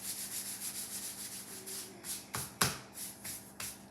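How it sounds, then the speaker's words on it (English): Hands wiping excess flour off rolled homemade pasta dough, soft rhythmic rubbing and brushing strokes, close and faint, with a sharper slap or two near the end and no talk. "If there's any excess flour on your dough, you can wipe it off"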